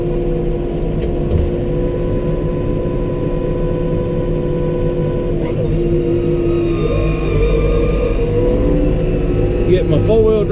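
A T5.120 tractor engine runs in four-wheel drive while bush hogging, a loud, close, steady diesel drone with a deep rumble that swells slightly in the last few seconds.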